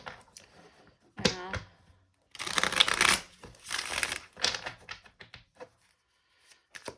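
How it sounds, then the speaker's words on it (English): Angel Oracle cards being shuffled by hand, with bursts of papery riffling and crinkling broken by short pauses, close and fairly loud, and a brief voiced sound near the start. "All right, one more shuffle."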